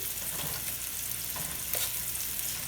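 Thinly cut chicken is added to a hot pan in small batches for shawarma and fries with a steady, close sizzle and a faint crackle throughout. No voices are heard.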